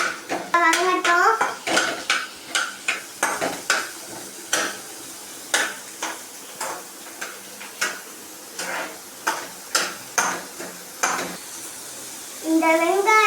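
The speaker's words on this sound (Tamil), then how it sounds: "வாங்க கிண்டலாம்." A spoon scrapes and clanks against a pan in a steady rhythm while onions sauté for tomato chutney, with a faint sizzle underneath and brief voices at the start and end.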